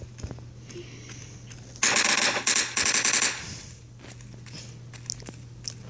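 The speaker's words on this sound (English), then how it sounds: "Are you shooting at me?" Video game gunfire erupts in a loud rapid burst of roughly a second and a half, with a short break in the middle, over a steady background hum.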